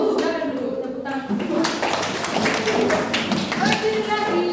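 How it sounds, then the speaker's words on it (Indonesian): A class of students claps hands on cue in a lesson, producing uneven bursts of close, sharp claps and taps mixed with voices talking throughout. "Silakan dulu, tepuk tangan."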